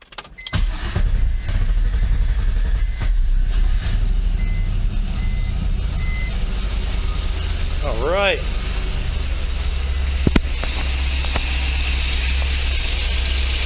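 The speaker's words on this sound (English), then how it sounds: "Now we're gonna start the car." A BMW E46 with a V8 swap cranks and fires for its first start, then idles with a loud, steady low rumble close by, a brief rev partway through, and someone speaking briefly.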